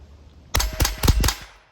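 An unsuppressed rifle fires Remington subsonic ammunition, producing a quick run of four sharp, loud cracks less than a second apart after a brief quiet start.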